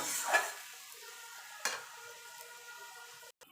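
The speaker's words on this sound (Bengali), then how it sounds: "মাছের ঝোলে এবার মশলাটাকে একটুখানি কষিয়ে নেবো হলুদের কাঁচা গন্ধটা যাওয়া পর্যন্ত" Spice paste for a hilsa fish curry with mustard sizzles in a pan, with two sharp stir scrapes and a soft steady frying hiss between them, close and fairly quiet.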